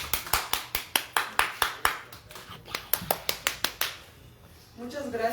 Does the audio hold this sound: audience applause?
yes